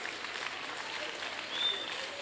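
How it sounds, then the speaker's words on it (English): Applause from an audience at a kindergarten annual day carnival, a steady, fairly faint wash of clapping that holds evenly throughout, with a slight swell near the end. "Please give them a big round of applause for our talented kids."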